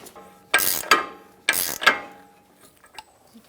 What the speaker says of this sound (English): axle nut on. And we're going to tighten that down.